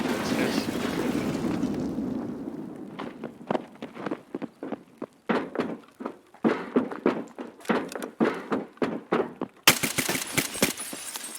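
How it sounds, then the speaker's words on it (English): Gunfire during a video game gunfight, fired in irregular bursts of sharp cracks and thuds at close to mid distance, with a player talking over the first stretch. "Oh, they're shooting me."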